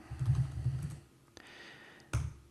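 Typing on a computer keyboard, a burst of close, fast key clicks followed by a pause and a few single keystrokes, heard alone with no voices.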